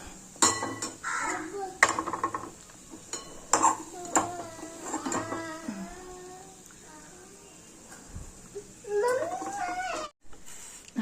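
Spoons and a steel pan clink and scrape as hot wheat flour sheera made with ghee is plated and served, with scattered sharp metallic taps, quiet kitchen background and crows cawing faintly outside.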